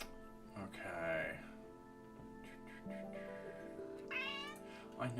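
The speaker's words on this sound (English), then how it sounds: "Meow to you too." A house cat meows several times, close and clear, with a couple of drawn-out rising calls amid a quiet room while a person talks between the meows.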